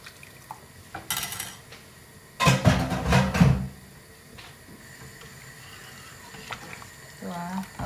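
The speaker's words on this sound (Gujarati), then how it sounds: "એ રીતે પાણી નાખવાનું." Water poured into a pot of sambar at home, a short splashing burst in the middle with faint kitchen clatter around it and quiet talk at the start and end.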